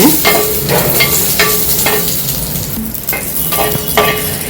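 Drumstick pieces sauté in sesame oil in a pan for a tamarind curry with broad beans, sizzling loudly and steadily while a spatula stirs in repeated scraping strokes about once a second.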